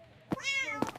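A cat meows from inside a bag, one drawn-out, fairly faint meow with soft rustling thumps just before and after.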